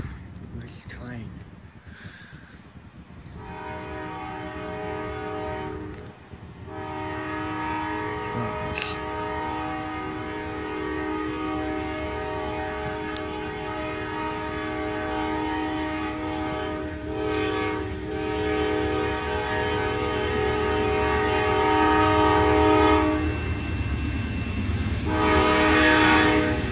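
A Norfolk Southern freight train passes at a rail junction in Fostoria, Ohio, with a long, steady sustained horn blast over the rumble of the rolling cars. The horn fades out near the end while the rumbling continues.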